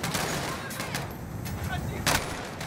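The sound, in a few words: gunfire in Modern Warfare campaign video game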